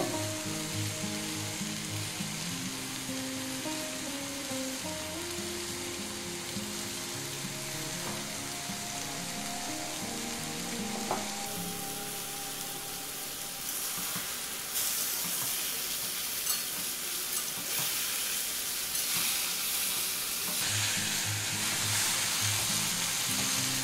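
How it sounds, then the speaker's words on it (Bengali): Bhringraj greens frying in a pan with salt, a steady close sizzle running throughout, with a brief clatter partway and brighter hissing bursts later, no voices. "ভালো করে ভেজে নেব 3-4 মিনিট ধরে।"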